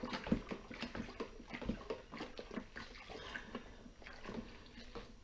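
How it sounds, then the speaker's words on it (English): Brewing sugar is stirred into water in a plastic fermenting bucket for home brew, giving soft, continuous sloshing and swirling with gentle knocks of the spoon, close and fairly quiet. "So you give that a good stir."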